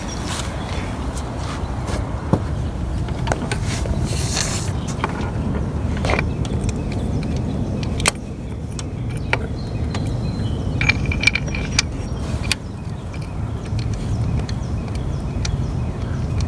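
Ratchet wrench clicking while turning a bolt on a 2002-2006 Toyota Camry V6 engine during water pump and timing belt work, with irregular bursts of close, crisp pawl clicks over a busy garage background.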